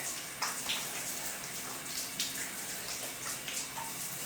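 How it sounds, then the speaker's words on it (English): Water running steadily from a tap into a basin while a body treatment is rinsed off, a close, even hiss with small splashes and no talking. "Okay, good rinse."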